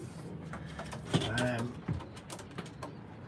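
Racing pigeons coo in a single low, throaty call near the middle, close by but brief, alongside a few soft knocks and someone talking.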